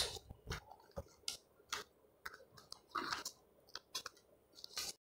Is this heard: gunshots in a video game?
no